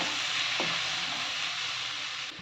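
Raw mango pieces fry and are stirred in a pan over a low flame, giving a steady, close sizzle throughout with one brief scrape of stirring early on.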